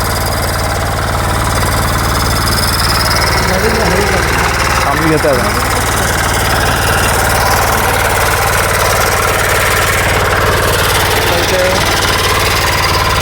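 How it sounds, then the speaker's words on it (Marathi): A farm tractor's engine drones steadily and loudly as it turns in a groundnut field, a constant low rumble with a mechanical rattle. Someone talks over it throughout. "आता ट्रॅक्टरचं वळवतो बघा"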